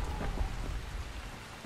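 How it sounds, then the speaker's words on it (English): Steady heavy rain pours down in the zombie survival game Dying Light, a dense continuous hiss with low rumbling like distant thunder, fairly loud throughout with no talking. "It's raining. Raining hard than a mug."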